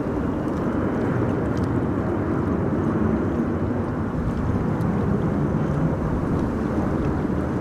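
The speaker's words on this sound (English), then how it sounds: "Behind it should be a KLM A330 arriving from Edmonton, Canada" A KLM Airbus A330 arriving from Edmonton at Amsterdam Schiphol in high storm winds, its low engine rumble steady and mixed with gusty wind buffeting the microphone, no speech.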